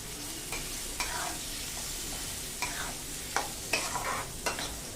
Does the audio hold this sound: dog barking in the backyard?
no